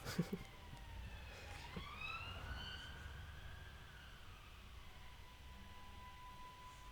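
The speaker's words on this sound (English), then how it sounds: "Apologies if you could just hear that police siren" A police siren wails in the background, its pitch rising then slowly falling and fading, with a low rumble of ambient noise throughout.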